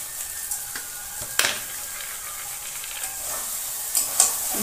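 Sugar stirred into a frying hilsa head with taro greens in a pan, a steady soft sizzle under occasional scraping clinks of the spoon against the pan, close and moderately loud, no voices.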